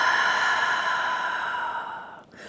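A long, steady exhale of breath during a yoga child's pose stretch, soft and airy, fading out near the end with no talking.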